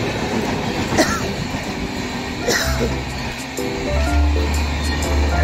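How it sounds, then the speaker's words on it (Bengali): An Indian Railways train passes nearby with a steady rumble and rolling wheel noise. Two sharp clanks punctuate it, and a deep horn-like drone swells in during the second half, all loud and close. "ইন্ডিয়ান রেলওয়েজের একটা গাড়ি বেরিয়ে গেল,"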